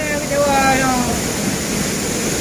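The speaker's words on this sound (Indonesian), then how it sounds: "Air terjun." Waterfall on the Sungai Putih river, a steady broadband rush of falling water filling the whole clip at an even level, with a few thin whistling tones briefly over it near the start.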